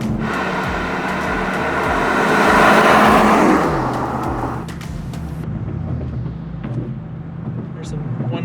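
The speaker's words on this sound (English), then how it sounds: "There's some one-wheel burnouts" A V12 twin-turbo Mercedes doing one-wheel burnouts, its engine revving and swelling to a loud peak before settling into a steady rumble with tire noise, people talking over it.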